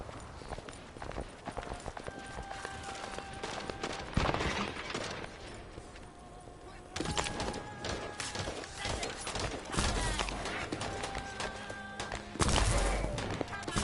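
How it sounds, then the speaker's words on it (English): Game gunfire from the shooter The First Descendant crackles in bursts through a mix of other in-game action, with rapid repeated shots sharpening around a few moments before fading out. "That stopped the gunfire."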